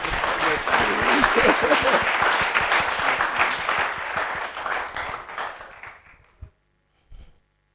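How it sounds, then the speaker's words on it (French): A church congregation breaks into dense, sustained applause that swells near the start, then thins out and fades to a few scattered claps before falling silent. "Acclamez pour le Père d'amour."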